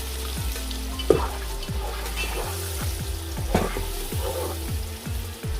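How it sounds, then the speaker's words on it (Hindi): Chicken yakhni stock added to pulao cooking in a pan, giving a steady close frying sizzle with a few knocks of stirring. "अब इसमें मैं थोड़ी सी यखनी को ऐड करूँगी।"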